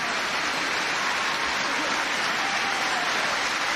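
A large arena crowd at the 2006 All England badminton final between Lin Dan and Lee Chong Wei applauds in a dense, continuous roar of clapping that holds steady and loud throughout.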